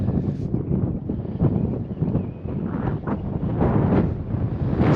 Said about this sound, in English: Still a little bit windy